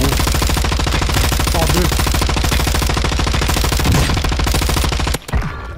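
Sustained rapid automatic gunfire in Warzone 2, a dense, loud, unbroken rattle of shots lasting several seconds before cutting off abruptly, with a brief voice underneath.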